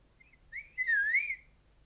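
A person whistles a short, faint note, then a louder wavering tune that rises and falls for under a second before stopping, heard alone in a quiet indoor room.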